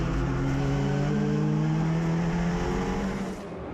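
Race cars roar down the straightaway at the Honda Indy Toronto street circuit, a loud sustained engine drone with steady high revs that trails off slightly at the end, no voices.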